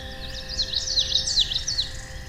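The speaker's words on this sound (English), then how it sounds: "This is the super bird of paradise." A superb bird-of-paradise calls in the depths of a forest, a run of sharp, high, repeated chirping notes in quick succession, fairly close and clear over faint steady background hum.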